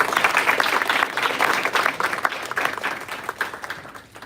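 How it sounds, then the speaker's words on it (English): A round of audience applause for Group 2 graduates at a graduation ceremony, lively and uneven clapping from a moderate crowd that gradually thins and fades toward the end. "Let's give our Group 2 graduates one more round of applause"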